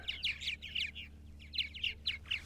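Purple martins calling around their birdhouse on eastern Long Island, a string of bright chirping, gurgling calls from birds a few feet away, in short bursts over faint background hum.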